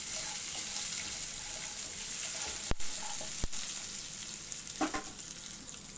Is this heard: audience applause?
no